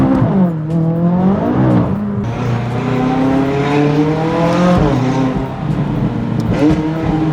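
A tuned McLaren 570S with about 150 extra horsepower, accelerating hard and losing traction. The engine is loud and close, its revs climbing and dipping repeatedly through gear changes as the car squirms.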